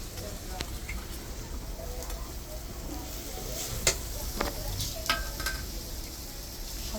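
Spice paste with green chillies, turmeric and chilli powder sizzles and fries in oil for a tilapia fish curry, a soft continuous crackle with occasional stirring scrapes and clinks, fairly faint throughout.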